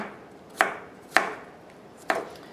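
A knife chopping vegetables on a cutting board for shrimp ceviche, three separate sharp thuds spaced about half a second to a second apart, close and clear with no talking.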